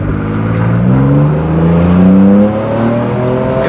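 A 2023 Ford Ranger Raptor engine accelerating, a loud, close, smooth rising drone whose pitch climbs steadily, briefly eases, then holds.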